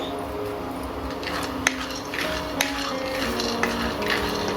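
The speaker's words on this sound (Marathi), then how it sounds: "इथे मी आता एक पॅन तापत ठेवलेला आहे त्यात आता मी शेंगदाणे थोडेसे भाजून घेणार आहे" Peanuts are dry-roasted in a heated pan, giving a soft, continuous rustling and scraping with a few faint clinks. The sound is quiet and close, with no talking.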